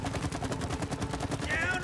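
Rapid repeated gunfire from the video game It Takes Two rattles on in a steady stream, with a brief higher tone near the end and a voice nearby.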